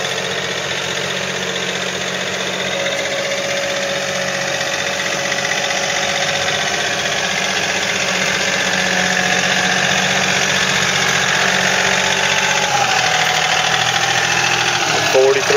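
A John Deere 4300 compact tractor fitted with a John Deere 420 quick connect loader runs its engine at a steady, fairly loud idle-like drone for the whole stretch, with a slight rise in level toward the end.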